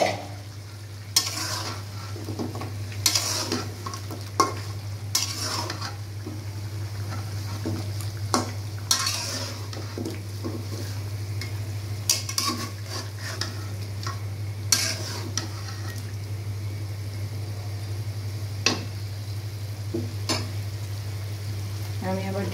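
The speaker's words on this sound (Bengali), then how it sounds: "নাড়া দিয়ে দিচ্ছি, এখানে আলু দিয়ে দিচ্ছি।" Potatoes and desi chicken fry in a pan while a utensil stirs them, scraping and knocking against the pan at irregular intervals over a steady low hum and a soft sizzle.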